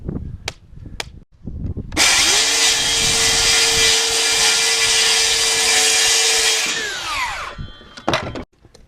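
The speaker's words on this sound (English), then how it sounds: "I'm just literally cutting a 1 inch strip out of it here." A power saw rips a one-inch strip off a board on a home build site, winding up to a loud, sustained whine for about five seconds before spinning down, with a few knocks and clatters before and after.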